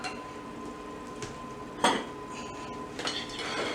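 A knife scrapes and clinks against a dish while picking up a mushroom from baked lemon chicken in mushroom gravy. A few light metallic taps come first, then one louder scrape close by, then softer clinks.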